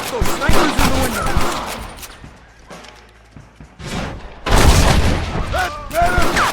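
Gunfire erupts in a Wild West shootout in Red Dead Redemption: loud bursts of shots and booming reports crowd the opening seconds, ease off briefly, then return in heavy volleys, with shouted voices mixed into the fighting.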